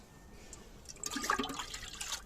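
Comfrey liquid manure trickles and splashes through a mesh strainer, a faint, brief burst of pouring liquid with gurgles that rises midway and then tapers off.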